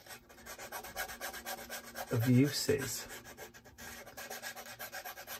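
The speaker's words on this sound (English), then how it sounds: "there's nothing wrong with just sanding" A short burst of rasping strokes of an emery board sanding paper, rubbed back and forth up close, with a brief spoken phrase nearby.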